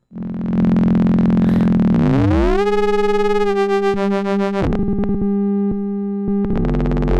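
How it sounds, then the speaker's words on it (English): Loud buzzy tones from an Instruo CS-L synthesizer module sweeping and shifting in pitch, with harsh harmonic-rich square-wave timbre, steady drones broken by sharp clicks and a final change. "So square waves if we want."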